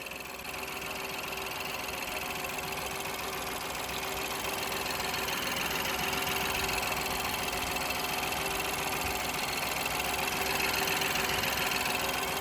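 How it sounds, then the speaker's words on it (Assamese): A Ford EcoSport EcoBoost petrol engine idles steadily and close, a constant even hum with a fine ticking texture that holds unchanged throughout, with no voices. "পেট্ৰল ইঞ্জিন হয় ইকো বুষ্টখন হয়"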